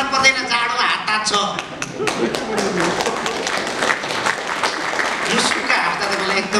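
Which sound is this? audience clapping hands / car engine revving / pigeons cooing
audience clapping hands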